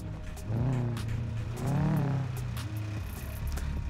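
A rough, sputtering, badly damaged car engine in GTA 5 revs up twice and drops back, groaning unevenly at moderate volume.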